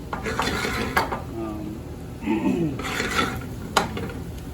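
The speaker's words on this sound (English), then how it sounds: "we're going to go ahead and add our arborio rice to that and kind of toast it for a minute" Arborio rice is stirred and toasted with onions in a pan, with scraping and clinking of a utensil against cookware over a faint sizzle, close by and intermittent.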